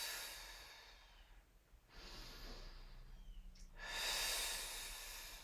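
Breath pushed out during a full-length foam roller workout, soft airy rushes of exhalation close to the listener, with a stronger breathy swell near the end and no talking.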